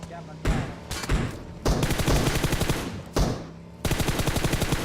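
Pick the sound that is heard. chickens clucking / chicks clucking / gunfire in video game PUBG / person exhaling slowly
gunfire in video game PUBG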